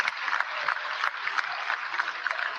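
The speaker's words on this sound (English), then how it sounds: "let me invite all of us in the National Assembly to applaud the remarks of the Right Honorable Speaker, Tajuddin Abbas." Members of Nigeria's National Assembly applaud during a budget presentation: a dense, continuous patter of many hands clapping across a large chamber, steady and moderately loud from start to finish.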